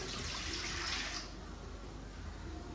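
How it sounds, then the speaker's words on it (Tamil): Water pours steadily into a cooking pot with a hissing splash for about a second, then stops, leaving only faint room noise. "இதில் கொஞ்சமாக தண்ணி சேர்த்து"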